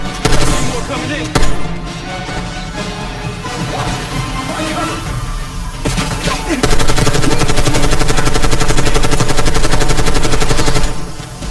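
Sustained machine gun fire in Call of Duty Black Ops 6 rattles loudly and continuously amid battlefield noise, building into a dense, unbroken stream in the second half.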